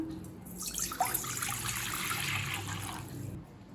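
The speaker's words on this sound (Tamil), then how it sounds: "கடாயில் தேவையான அளவு தண்ணி சேர்த்துக்கலாம்." Water runs and splashes into a kadai pan while pasta is prepared, a steady close pouring with faint drips under a low background hum, fading out near the end.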